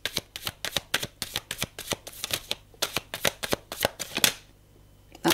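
A deck of advice cards being shuffled for a card reading, a quick run of crisp riffling flutters and taps close by, with a brief pause before a final flick.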